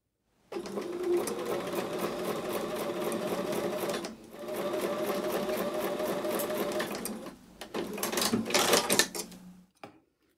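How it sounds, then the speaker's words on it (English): A sewing machine stitches a seam on a Father's Choice quilt block, whirring steadily up close in two long runs with a short pause between and a brief stop near the end, with no talking. "So when I take that to the sewing machine I'm going to sew this side up"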